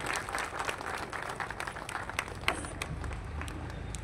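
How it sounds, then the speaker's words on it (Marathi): Crowd applause at a political rally as a candidate arrives, a dense steady wash of many hands clapping together with one sharper clap standing out midway and no voices over it. "त्यांचं टाळ्या वाजून आपण स्वागत करायचं."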